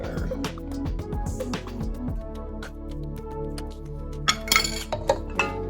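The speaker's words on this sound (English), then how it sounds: "And just stir it all up here." Macaroni and cheese stirred in a baking dish with a spatula, giving repeated clinks and scrapes of the utensil against the dish, close and moderately loud over a low background hum.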